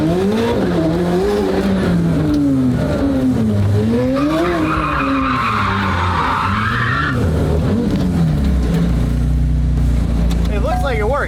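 A McLaren sports car engine revs up and down through gear changes, with a burst of tire skid noise in the middle and a person talking over it.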